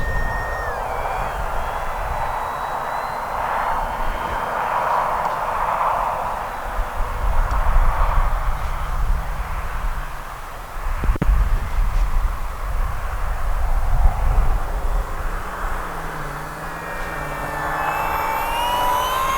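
An RC P-51 Mustang model plane makes a flyby over an open field, its electric motor buzzing as a distant whine that swells louder as it passes overhead and then fades, with wind noise underneath.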